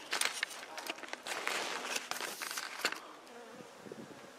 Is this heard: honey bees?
yes